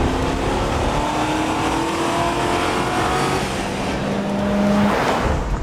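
Ford Crown Victoria Police Interceptor V8 accelerating under full throttle through its four-speed gears, a steady engine drone with rising tones, heard from inside the car and fairly loud throughout.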